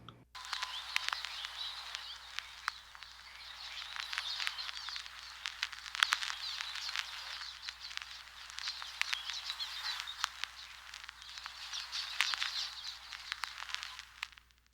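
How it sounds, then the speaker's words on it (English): Steady, busy bird chirping and tweeting runs throughout, layered with quick crackly pattering, fairly quiet and unbroken for the whole stretch. "let's have a listen to this bird sound"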